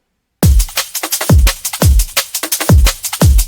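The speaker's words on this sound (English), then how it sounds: "Together the drum loops, they sound like this." Stacked liquid drum and bass drum loops play at close range, loud and punchy, with booming kicks and crisp snares in a fast, rolling rhythm and busy layered hats on top.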